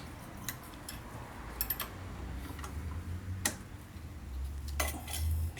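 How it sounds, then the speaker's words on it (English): Metal tools dropping during a Toro 521 snowblower rebuild, several sharp clinks and clatters at irregular moments over quiet background noise, faint to moderate in level. "And I'm dropping everything"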